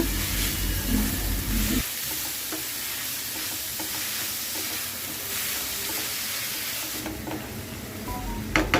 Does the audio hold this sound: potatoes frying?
yes